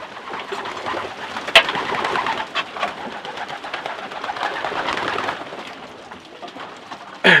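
Racing pigeons coo repeatedly in a loft, soft throaty calls overlapping at close range with occasional wing flaps and clatters, no voices.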